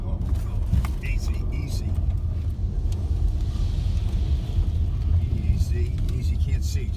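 Car rumbling as it drives through a burning forest, a heavy continuous low roar with crackling bursts, while people talk and shout anxiously over it throughout.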